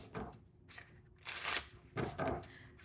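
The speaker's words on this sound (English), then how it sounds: "as I was shuffling, I'm looking at these cards" Tarot cards are shuffled by hand in a few soft, papery bursts with short pauses between, close and fairly quiet with no talk.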